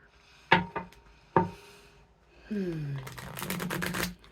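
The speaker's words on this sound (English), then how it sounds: "Let me get another shuffle in and bring it back." Tarot cards are shuffled in short, crisp bursts: a few sharp riffles and taps, then a longer flurry of rapid card flicks near the end, close and fairly quiet with no talking.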